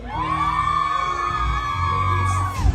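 Women at a concert crowd in Toronto scream and cheer in one long, loud, sustained high-pitched shriek that holds for over two seconds, with other crowd noise beneath and a thump at the end.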